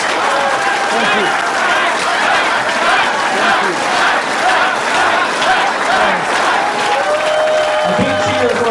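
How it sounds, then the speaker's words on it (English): At a Toronto political rally for Maxime Bernier, a large crowd cheers and applauds continuously, loud and sustained, with shouts and whoops rising over the clapping and voices mixed in. "A big cheer for our future Prime Minister right here, ladies and gentlemen"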